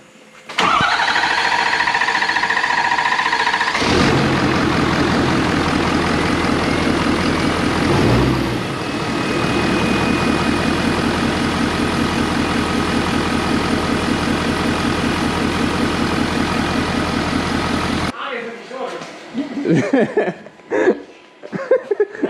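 A Ford 6.7 Powerstroke diesel truck engine with air in the fuel line and its turbo disconnected cranks hard, catches and settles into a loud, rough idle up close, then cuts off near the end.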